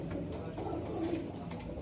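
Giribaz pigeons in a bird pet shop in Tiptur give a short, soft burst of low, rolling coos nearby, with possible faint voices in the background.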